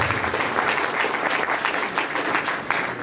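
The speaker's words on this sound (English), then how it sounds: "How about a round of applause for the judge?" Audience at a county candidates' night forum applauding a judge, a steady, dense wash of clapping from many hands that holds at an even level throughout, with no speech over it.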